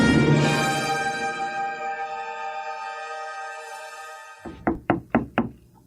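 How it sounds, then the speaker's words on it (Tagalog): Knocking on a door: four sharp, evenly spaced raps come in quick succession near the end, loud and close, following a long fading musical tone with no talking. "May kumakatok."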